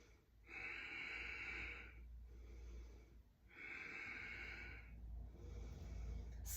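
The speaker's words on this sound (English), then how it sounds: "relax neck. Again, nice big breaths" Slow, deep breaths in a yoga session, two long airy exhalations with pauses between, close and clear over a low steady background hum.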